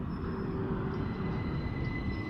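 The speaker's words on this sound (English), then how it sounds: "As we have 377156 coming in, working a service to London Bridge." A Class 377 electric train pulls in at East Croydon station on a London Bridge service, a steady low rumble of wheels and traction with faint tonal whine and hiss, heard from the platform without talk.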